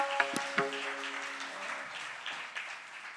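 Applause at a Naradiya kirtan festival in Jalna greets the kirtan accompanists. It is a short, fairly soft burst of clapping from an audience, with a couple of ringing instrument notes at the start.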